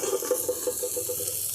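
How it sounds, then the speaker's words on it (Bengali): Ground spice paste is stirred into potatoes and onions frying in a pan, a quick, regular scraping rhythm over a soft, steady sizzle at close range with no voices. "এরপর আমি দিয়ে দিচ্ছি বেটে রাখা মশলাটা।"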